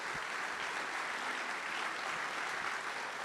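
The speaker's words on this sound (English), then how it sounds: "Please give them a nice round of applause." A concert audience at a holiday choral performance applauds its board president and artistic director, a steady, even wash of many hands clapping, heard at some distance and fairly soft.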